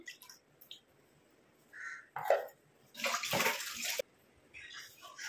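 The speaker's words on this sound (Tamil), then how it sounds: "இந்த அளவுக்கு தண்ணி விட்டுக்கோங்க. விட்டுட்டு இப்போ இதை நல்லா அலம்பிட்டு உள்ளே ஊற்றிக்கலாம்." Water splashes and pours into a container in short bursts while mixing a homemade herbal hair dye, with a few drips and clicks between, close by and with no voices.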